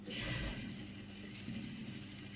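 A sewing machine running a half-inch seam on a bubu kaftan gown, a steady close mechanical whir that swells at the start and then hums on evenly.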